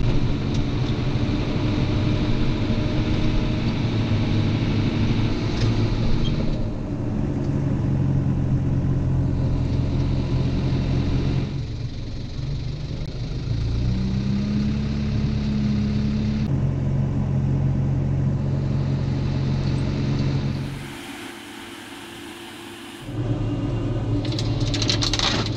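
Tractor engine running steadily through a corn harvest, a loud continuous mechanical drone with shifting tones and a brief drop in level near the end.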